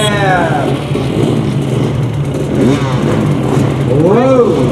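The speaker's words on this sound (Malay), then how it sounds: "deruman motosikal yang sungguh menggetarkan jiwa" Several motocross motorcycles rev and roar nearby at the Kukup Motor Day event, engines rising and falling in pitch, with a loud rev swelling toward the end.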